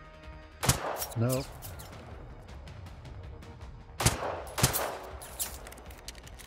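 Gunfire in the video game Generation Zero: a few sharp shots ring out, one near 0.7 s and a pair around 4 and 4.6 s, loud against steady in-game ambience, with a brief voice-like chirp between them.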